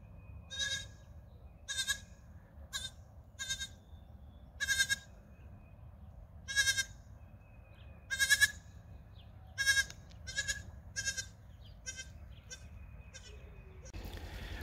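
Kiko goats bleat repeatedly, about a dozen loud calls spaced a second or so apart, nearby against a quiet background with a low rumble at the end.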